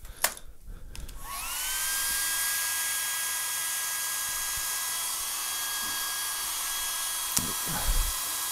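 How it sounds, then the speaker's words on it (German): A hair dryer spins up after a second and blows steadily close by, drying paint on a 3D print, with a faint tonal whine held throughout and small knocks near the end. "ich muss hier wieder föhnen."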